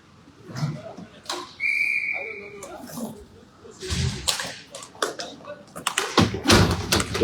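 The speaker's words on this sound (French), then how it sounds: "Ça a sifflé." A referee's whistle blows once, sharp and clear, during an under-17 football match, amid crowd chatter, thumps and shouting on the pitch.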